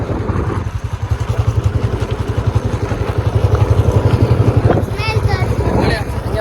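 Motorcycle ridden along a cold, foggy road in Bangalore before dawn, its engine giving a steady, loud pulsing throb close by throughout, with wind and road rumble mixed in.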